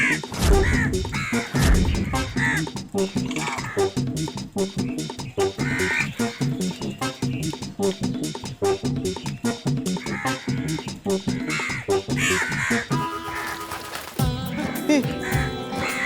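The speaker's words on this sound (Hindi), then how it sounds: "मैं अपने फोन से कौवे की आवाज प्ले करता हूँ।" Crow caws played back through a mobile phone speaker, a busy run of repeated harsh calls with dense music and sound effects over them. Hindi speech is mixed in throughout.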